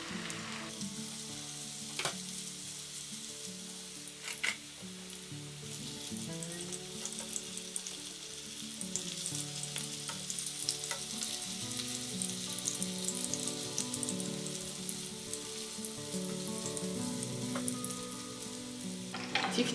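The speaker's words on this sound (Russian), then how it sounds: "Тефтели поджариваем с обеих сторон до золотистой корочки, но не до полной готовности." Meatballs sizzle steadily in a frying pan as they brown on both sides to a golden crust, a loud, continuous crackle with occasional sharper pops.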